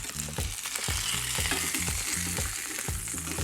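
A ground brisket smash burger patty hisses loudly and steadily on a hot griddle after being flipped, a dense continuous sizzle with tonal music playing underneath.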